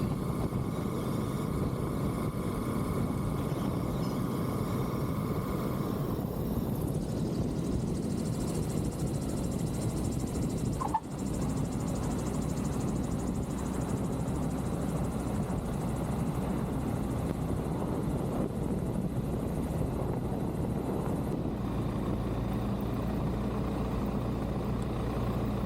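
Aeroprakt A22LS light aircraft rolls out after landing and taxis, its engine droning steadily close by with a drop in pitch as it slows, then a continuous low idle-like hum.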